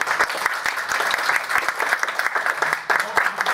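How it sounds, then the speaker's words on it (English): An audience at a conference session on health inequalities applauds its panelists with steady, lively clapping that fills the room for several seconds. "please give an applause to our panelists"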